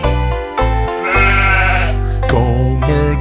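Loud, sustained bleating from a goat, several drawn-out quavering calls in close succession, set in a children's song.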